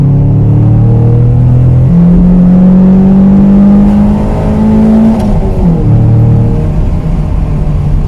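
A 1991 Toyota MR2 Mk2 with its 2.0-litre 3S-GE twin-cam engine growls loudly through the exhaust, rising in pitch as it accelerates through the revs and then dropping briefly with a gear change, heard from inside the car.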